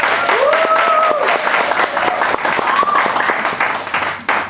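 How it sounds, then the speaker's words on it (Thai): Audience applause for a speaker at a business marketing seminar: loud, sustained clapping from a crowd with a few whistles or cheers, tapering off at the end. "ขอเสียงปรบมือดังๆนะครับ"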